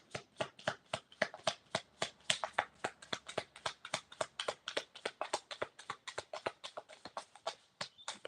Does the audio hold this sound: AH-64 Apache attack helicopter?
no